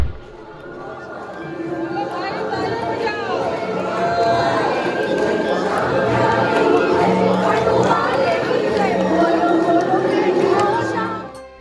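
Dense crowd murmur at the gate of Khatu Shyam temple, many overlapping voices chattering at a steady, fairly loud level with occasional louder calls.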